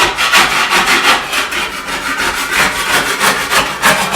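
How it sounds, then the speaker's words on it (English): A tool scraping a sharp ridge of dried drywall mud off a shower corner, loud and close, in steady rhythmic back-and-forth rasping strokes, roughly three per second, with no talk. "You can just scrape it right off."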